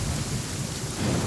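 Thunder and heavy rain from a Genshin Impact lightning storm form a dense, continuous roar, loud and close throughout the short stretch, with no voices.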